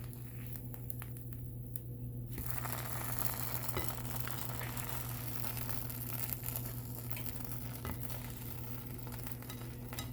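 Grilled cheese sandwich frying in a pan, giving a steady, fairly quiet sizzle with soft crackle and patter that continues evenly throughout, with no voices.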